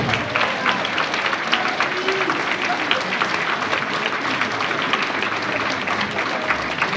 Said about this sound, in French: on peut applaudir bien fort Monsieur Denis Bal à la cantine